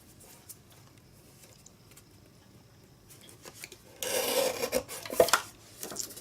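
A blade trims the edge of a paper photo mat, heard as a quiet scraping rasp that builds into a louder burst of cutting and rubbing near the end.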